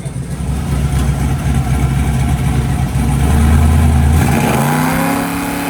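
A truck engine runs loud and close on a dyno after a timing change, holding a rough, rowdy drone before revving higher toward the end.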